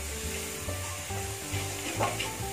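Spice powder sautéed and stirred in a pan for a green peas masala gravy, giving a steady low sizzle with soft scraping strokes of the spoon throughout, close and moderately loud, with no talking.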